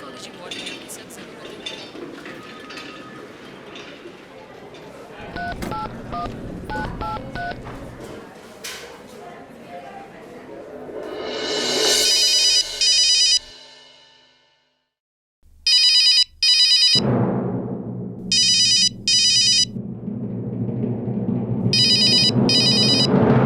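Rapid touch-tone beeps of a number being dialed, then repeated electronic ringing bursts in a regular pattern, with faint background clatter and some voices.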